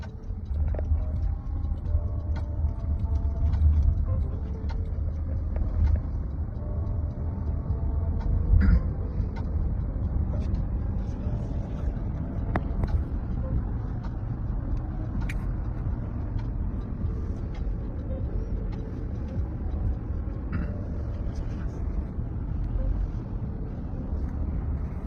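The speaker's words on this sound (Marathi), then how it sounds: "सिग्नल ग्रीन झालाय आणि गाडी आता सुरू झालेली आहे." A driverless car pulls away from a traffic signal, heard from inside the cabin as a steady low road and motor rumble with faint wind noise, with no talking.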